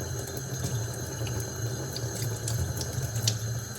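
Tap water runs steadily over a Brita water bottle filter as it is rinsed, a continuous close splashing rush with small clinks.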